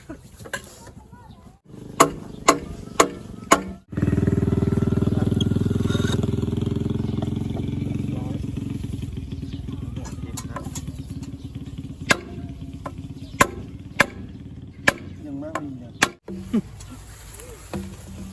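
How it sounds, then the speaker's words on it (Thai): Sharp, separate hammer strikes ring out at a work site where a hand-pumped well is being converted to an automatic one; there are about a dozen blows, with a motor humming steadily beneath most of them. "ผมตอกเองดีกว่า"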